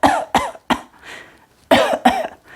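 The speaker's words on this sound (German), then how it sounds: "Oder ihr hustet mal." A person gives a few deliberate coughs as a demonstration, short sharp bursts in two groups separated by a brief pause, close and clear with no talking.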